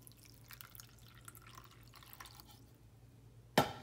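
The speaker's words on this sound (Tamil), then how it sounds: "இப்போ தண்ணி ஆட் பண்ணிக்கிறேன்." Water is added to ground curry leaf and pepper paste, heard as faint drips and trickles under a low hum, ending in one sudden loud splash of water hitting the paste in a jar.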